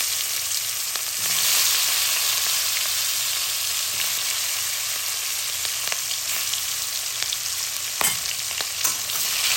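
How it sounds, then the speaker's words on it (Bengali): Pieces of hilsa fish frying in hot oil, a loud, dense and constant sizzle with occasional crackles and faint utensil clicks, no speech. "মাছটাকে হালকা ভেজে নেব"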